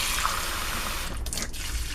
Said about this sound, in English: Put a little water into it.